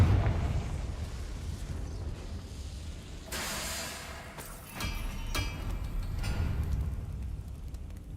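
Confringo fire spell from Hogwarts Legacy blasting out: a few rumbling fiery bursts with crackling, noisy whooshes over a low background roar, fairly loud and spaced a second or two apart.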